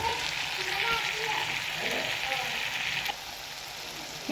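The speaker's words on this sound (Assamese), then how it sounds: "আছে আদা নহৰু বিলাহীখিনি তেল এৰিব ধৰিছে" Ginger, garlic and tomato sizzle in hot oil for a mushroom curry, a steady close crackle and hiss with a faint clink partway through.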